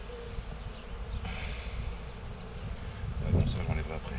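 Honeybees hum in a steady, dense drone around an opened Dadant hive during a spring inspection and hive-box change, the buzzing close and continuous with a few louder passes near the end.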